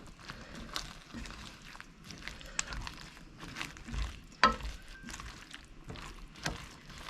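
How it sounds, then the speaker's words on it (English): A spoon stirs mushrooms through beef bourguignon in a pot, producing soft irregular scrapes, knocks and wet squelches with a faint sizzle, fairly quiet and close, with one sharper clink midway. "now the mushrooms are in, and we're gonna stir again"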